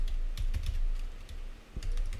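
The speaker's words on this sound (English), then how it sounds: "typing too fast" Rapid typing on a computer keyboard, a quick run of clustered clicking keystrokes close up with short pauses between bursts, no talk.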